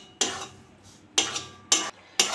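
A spoon or spatula stirs flour and semolina dry-roasting in a wok, giving four sharp scraping strokes with pauses between them. The strokes sound close and are heard alone, with no voices.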